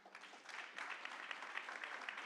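An audience claps steadily, a dense and fairly close round of applause lasting about two seconds with no one speaking over it.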